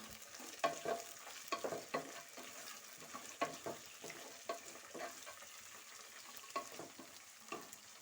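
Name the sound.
frying peas and spices in oil for khara bath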